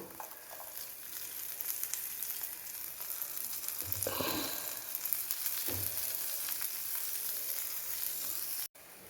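Kanthari chilies frying in hot oil beside dried fish, with a steady close sizzle and crackle that swells with a couple of stirs, continuous throughout and ending in a brief knock.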